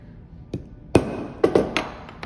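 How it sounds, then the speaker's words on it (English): A hammer strikes a center punch on metal while rivet holes are marked with wire nearby, giving a handful of sharp, ringing taps spaced unevenly, close and fairly loud, with no talking. "I'll just make sure to center punch"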